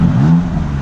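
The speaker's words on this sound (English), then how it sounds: "you can clearly see the exhaust valves are open, and it sounds a lot meaner" A 2015 BMW M4 Competition with its exhaust valves open in sport mode gives one short, loud rev that rises and then settles back toward idle, with no voices.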